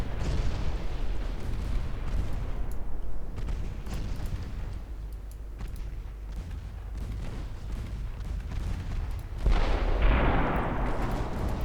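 Warship guns in a 1926 naval battle video game fire in heavy, rumbling booms over a steady low roar, with a sharper, brighter blast bursting out near the end of the clip.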